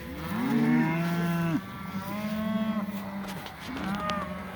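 Cattle low and moo in a grassy paddock, several long, loud calls overlapping close by, with softer moos following as the herd settles.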